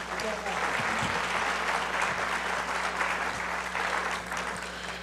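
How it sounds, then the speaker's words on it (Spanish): Conference audience giving a strong round of applause to a speaker on access to adapted justice, loud and sustained clapping from many hands with murmured voices underneath, easing slightly near the close. "Brindemos un fuerte aplauso."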